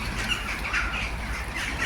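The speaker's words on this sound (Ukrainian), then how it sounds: "Чуєте, тут птиці кричать" Birds squawk and caw in the background over a steady low outdoor rumble in Kharkiv, with calls repeating irregularly throughout.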